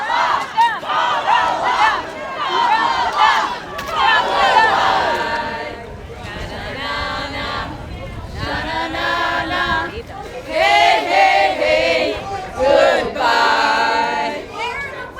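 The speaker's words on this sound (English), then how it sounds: "We are at one of the last Kamala Harris rally." A large crowd at a Kamala Harris election rally in Pennsylvania on the 2024 Election Day, loud and close, with waves of cheering, shouts and chant-like calls rising and falling throughout.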